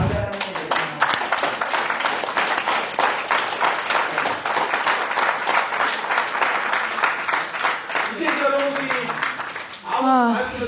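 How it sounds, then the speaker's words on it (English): Audience applause at a talk session, dense steady clapping for about ten seconds with a voice talking over it near the end. "Let's clap for him."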